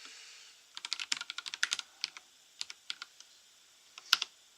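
Computer keyboard typing while writing a quick Gnuplot plot on HaikuOS: a fast run of close, crisp key clicks, then sparser taps and a final louder keystroke, with no talk.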